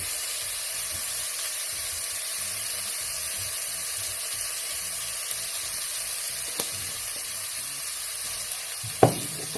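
Callaloo and thyme cooking in a pot for a Jamaican breakfast, giving a steady, close sizzle and frying hiss throughout, with a couple of brief clinks near the end.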